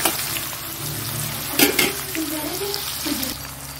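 Onions sizzle in a hot pan for a fish curry with water spinach, with steady crackling frying and a couple of brief metallic stirring clanks.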